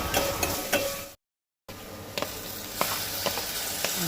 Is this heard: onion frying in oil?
yes